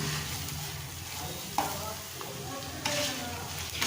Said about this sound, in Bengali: 1 মিনিট সময় নিয়ে লো টু মিডিয়াম হিটে মশলাটাকে আমি ভালো করে কষে নেব।